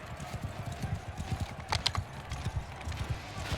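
Many horses gallop across a Mount & Blade battlefield, their hooves drumming in a dense, continuous rhythm under a faint wash of battle noise. The sound is fairly quiet overall.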